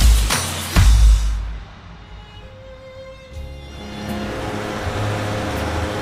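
A Vespa scooter on a street in Rome, heard first as a loud low engine burst at the start, then a quieter, steady idle hum that climbs back to a moderate running drone.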